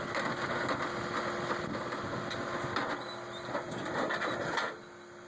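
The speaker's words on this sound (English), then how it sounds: "He's able to keep grinding and digging up this topsoil in order to loosen it up to dig down a little deeper." A tractor drags scarifier teeth through topsoil while digging for a small septic tank system, its engine running steadily at a moderate distance with faint scraping and clunks, no talk.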